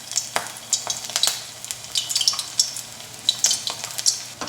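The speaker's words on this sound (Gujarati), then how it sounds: "અહીંયા તેલ ગરમ થઈ ગયું છે, તો તેમાં આપણે મુઠિયા તળવા માટે મૂકતા જઈશું।" Muthiya dumplings deep-frying in hot oil for a dana muthiya curry, with a steady crackling sizzle broken by sharp pops and light clinks of a utensil against the pan.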